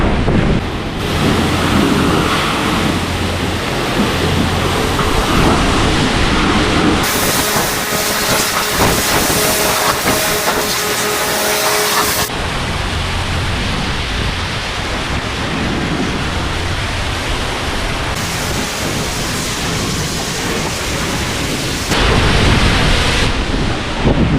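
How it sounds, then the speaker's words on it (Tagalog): Loud, steady rushing roar of strong wind outdoors in Edmonton, Alberta, Canada, broadband and unbroken, swelling and easing in gusts throughout with no voices. "malakas ang hangin grabe"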